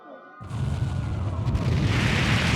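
Cannon fire in the video game Ys X Nordics: a sudden heavy boom after a brief quiet start, swelling into a loud, sustained rumbling roar that thickens toward the end, with no speech.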